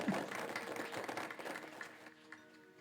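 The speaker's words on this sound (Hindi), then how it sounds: "जोरदार तालियां" Loud applause from an audience at a Shrimad Bhagwat Katha gathering in a Durga temple, a dense steady clatter of many hands that fades somewhat toward the end, with no speech over it.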